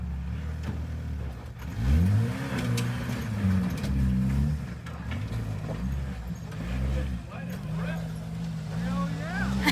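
An off-road vehicle on John Bull Trail in Big Bear, its engine revving up and down in repeated low surges while people talk and shout throughout.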